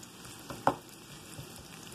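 Sliced bitter gourd sizzles quietly in a hot skillet with little oil, a soft steady frying hiss with a light clatter of a piece being set down.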